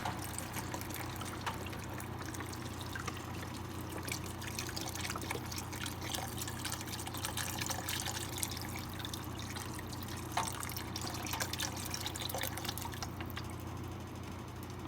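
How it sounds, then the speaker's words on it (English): A whole container of broth is poured into a pot of Zuppa Toscana soup with potatoes, a steady close trickle and splash with scattered drips running continuously over a low hum, no voices. "I've got a whole container of broth here that I'm just going to pour in there"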